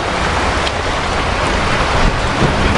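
Steady, dense rain falls continuously outdoors, a close, loud broadband hiss with no pauses and no voices over it.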